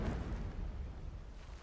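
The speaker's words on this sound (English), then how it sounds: "Explosions in the distance." Distant explosions rumble in the video game Horizon Zero Dawn, a low, muffled booming roar that stays steady and fairly faint throughout.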